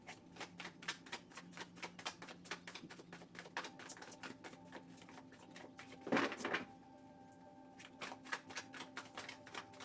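Tarot cards being shuffled by hand, a rapid run of close, soft riffling taps in a quiet room, with a louder burst of handling midway and then more steady shuffling.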